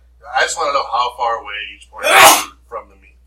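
A sharp sneeze bursts out in a classroom during a statistics lesson, one loud explosive burst right after a teacher's spoken sentence, followed by a short breathy sound.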